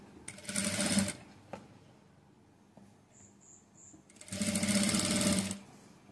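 A domestic sewing machine stitches thread piping onto net cloth for a blouse in two loud, steady bursts of rapid whirring, separated by a quieter pause with a few faint clicks and brief high beeps.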